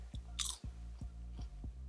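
Crunchy lettuce salad with pumpkin seeds is chewed up close in a steady rhythm of about five crisp bites, with a brief brighter crunch near the start and no talking.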